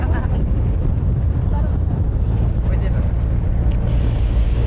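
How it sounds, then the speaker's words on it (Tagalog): Wind sweeping across Mt. Pinatubo's desert-like trekking ground, a loud, steady rumbling buffet that roars continuously throughout. "Hangin"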